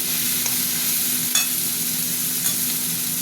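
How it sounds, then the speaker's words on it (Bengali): Potatoes frying slowly in oil in a pan, a loud, even, close sizzle with a few sharp scrapes of stirring, no voices over it. "আলুগুলো এখন ভাজা ভাজা হবে।"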